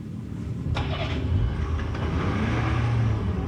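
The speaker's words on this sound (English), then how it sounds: "She rides the multicab into town with her papa" A multicab's engine rumbles steadily and loud, with a low drone and a brief mechanical clatter as it starts and pulls off on a drive into town, with no voices.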